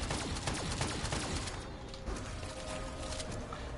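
Gunfire aimed at a zombie boss in Call of Duty: Black Ops 3's Shadows of Evil: a rapid string of fairly quiet shots in the first half, thinning into a muffled rumble afterward.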